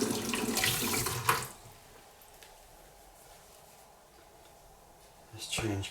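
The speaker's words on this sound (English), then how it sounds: "Let's wash the razor off." Tap water runs over a Swedish steel straight razor (Dorko 14) being rinsed between sharpening stones, with broadband splashing at the start and end and a quieter steady trickle in between.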